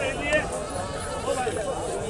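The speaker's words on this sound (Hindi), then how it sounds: "अब बकरा देखे कितना बढ़िया है" Goats bleat at a crowded goat market in India, one animal calling out close by over a steady din of voices and market babble, with someone talking throughout.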